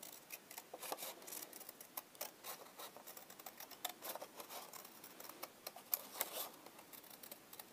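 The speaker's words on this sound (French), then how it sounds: "Ciseaux." Scissors snip through paper while scrapbooking, a quick run of small, crisp cuts in an irregular rhythm, close and fairly quiet.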